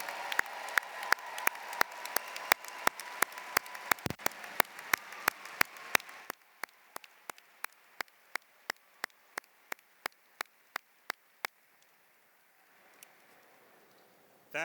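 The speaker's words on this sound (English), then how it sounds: "let's give all of our masters a round of applause." Audience at a university graduate commencement for arts, sciences and engineering applauds master's graduates, a dense clapping wash that thins after six seconds into a slow, sparse run of individual claps before fading to quiet.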